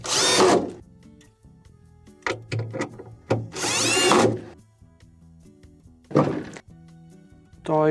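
Screws driven into a GE refrigerator ice maker assembly with a power driver: several short whirring bursts, close and fairly loud, separated by quieter gaps with light handling knocks.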